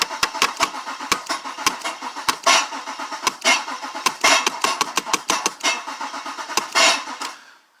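2004 Acura RL with a suspected fuel pump problem being started, a run of sharp, uneven mechanical clicks and cranking bursts at close range that cut off abruptly.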